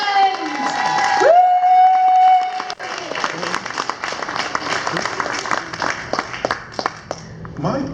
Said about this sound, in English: massive round of applause for Paul Diamond!